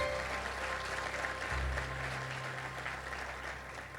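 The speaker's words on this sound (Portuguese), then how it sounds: "Pode aplaudir ao Senhor Jesus." Church congregation applauding during a Portuguese-language service, steady clapping throughout with a low hum and sustained tones beneath it, fairly quiet overall.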